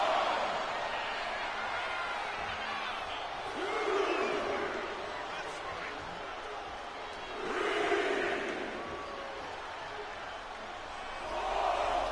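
A wrestling crowd in a WWE video game roars in a steady arena wash, swelling in three louder waves under an ongoing commentary voice.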